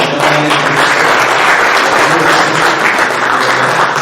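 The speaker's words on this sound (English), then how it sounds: "Let everybody give you a round of applause" A Rotary Club audience in Waco gives Madeline Martin a loud, sustained round of applause, with dense clapping that fills the room at a steady level from start to finish.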